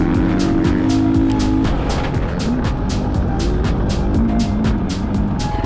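Triumph TF250E enduro motorbike ridden on steep, slippery bush single track, its engine revving hard and continuously up close with rapid rhythmic pulsing and wavering pitch as the rider works the throttle.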